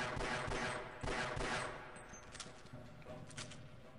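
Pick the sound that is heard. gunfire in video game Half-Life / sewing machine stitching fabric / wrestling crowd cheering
gunfire in video game Half-Life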